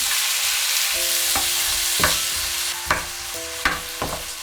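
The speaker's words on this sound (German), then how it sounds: "Tomaten in die Pfanne geben." Oil sizzling steadily in a hot pan as tomatoes fry, with a few sharp clicks of a utensil stirring at intervals and faint tonal hum underneath.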